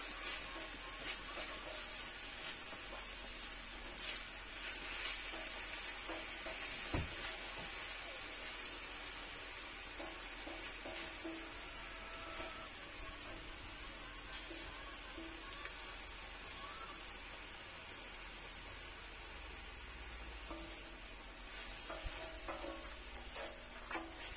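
Onions frying on an oiled plancha give a steady, even sizzle with a bright hiss, broken by occasional scrapes and taps of a spatula, continuing without pause for the full length.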